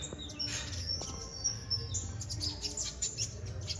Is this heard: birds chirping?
yes